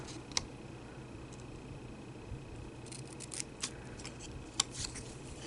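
Scissors snipping paper at a stamping and card-making craft table, a few soft, sparse clicks and snips, quiet and close, with no talking.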